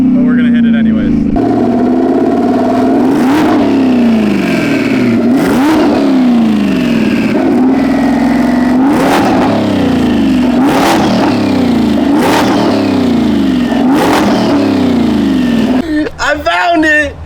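A boosted V8 Mustang with a boost leak, its engine roaring loud and close through about seven repeated surges that climb and fall in pitch, each rising sharply before dropping away.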